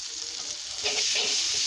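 Ginger-garlic paste, ground with cumin and onion, fries in a pan with a brief, close hissing sizzle that swells louder partway through, with no voices.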